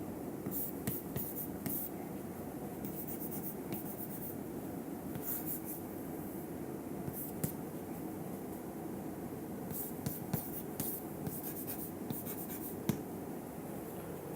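Pen or chalk writing during a mathematics lecture, soft and continuous with faint scratchy strokes and small taps, quiet and close with no talking.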